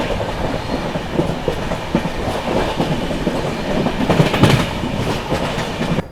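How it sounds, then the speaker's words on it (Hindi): Heard from on board, the 12826 Jharkhand Sampark Kranti Express runs at speed through a station it skips, its steady rumble carrying clickety-clack wheel beats over rail joints and occasional louder rattles. "यहाँ पर बढ़िया रफ्तार में जो है अपनी झारखंड संपर्क ने अनुग्रह नारायण रोड को स्किप किया है।"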